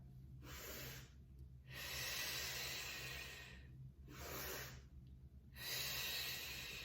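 Slow, deliberate breathing during a beginners Pilates exercise: two long airy inhales and two exhales alternate in a steady rhythm, close and clear with no talking.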